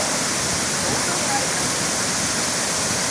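Burney Falls in northern California, with water gushing from holes in the rock face, makes a loud, unbroken roar that is dense and steady throughout, heard from close by.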